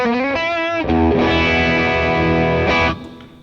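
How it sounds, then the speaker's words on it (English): Electric guitar played through a Plexi-Drive overdrive pedal, giving a loud, gritty distorted tone: a few sustained chords with rich harmonics, ending in a brief ringing decay. "So Plexi-Drive is just a little more gainy"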